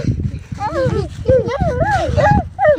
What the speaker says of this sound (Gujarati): કૂતરા રમાડો ને મોની બેન, છોકરા ગલુડિયા રમાડે.